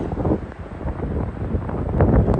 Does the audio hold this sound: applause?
no